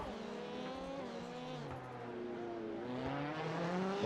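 Rallycross race car in iRacing on the Iowa rallycross circuit, its engine droning steadily with rising and falling revs, alone and fairly close.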